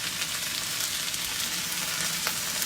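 Stir fry dressed in General Tso sauce sizzles steadily in a hot pan, a dense, even frying hiss with no talking, close and continuous throughout.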